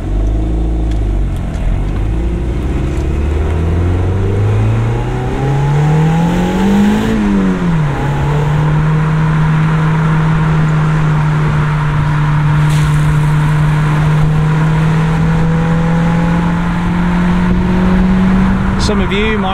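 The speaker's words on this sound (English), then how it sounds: "we're still running the completely stock exhaust system" A Mazda MX-5 NC on its stock exhaust accelerates hard on a countryside road, its engine note rising steeply through a gear, dipping at the shift, then climbing steadily again, loud and close.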